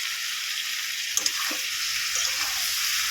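Potato, raw green banana and four green chilies sizzle in oily fried spice paste for a rohu fish curry, a steady close hiss broken by a couple of sharp stirring clinks, with no talk.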